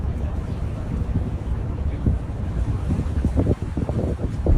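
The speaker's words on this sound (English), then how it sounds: "you can hear the wind too, which makes it look very realistic" Wind blows across a yacht cruising off the Dubai coastline, a loud, continuous buffeting rush with a low rumble and some faint wave wash beneath.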